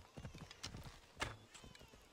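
In Assassin's Creed Odyssey, a horse's hooves clop along at a walk, quiet and near, with a sharp brighter knock and a short whinny-like tone midway.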